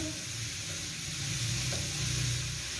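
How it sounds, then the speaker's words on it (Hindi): Cabbage for samosa filling sautés in a hot pan with a dense, steady sizzle and hiss throughout, close and fairly loud, with occasional light stirring and no speech. "बंद गोभी को भी हल्का सा पका लेंगे।"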